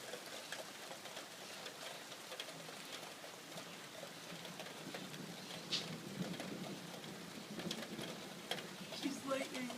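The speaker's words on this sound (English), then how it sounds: "No, it's raining." Steady rain falls outside during a thunderstorm, a dense, even patter throughout with a few brief louder drips, heard from nearby with no clear talking.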